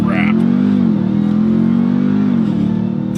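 A 2021 RAM 1500 TRX truck on launch control holds a loud, steady engine drone at raised revs, close and continuous for a few seconds, with a brief higher-pitched sound at the start.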